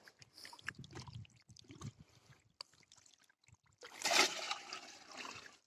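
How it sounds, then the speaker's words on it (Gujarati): Water splashing and gurgling into a container being filled for mixing farm pesticide, starting in irregular bursts and then a louder steady pour near the end, close by with no voices. "દવા માટે પાણી ભરી રહ્યો છે"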